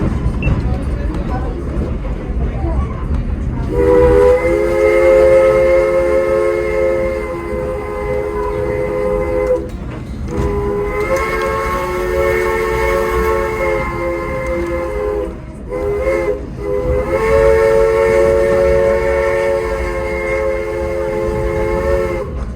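A Nevada Northern Railway train pulled by a Baldwin-era steam locomotive runs along and switches track, its whistle sounding in three long, loud blasts over steady rumbling and rail clatter.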